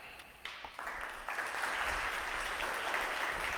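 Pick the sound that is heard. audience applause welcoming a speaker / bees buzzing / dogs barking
audience applause welcoming a speaker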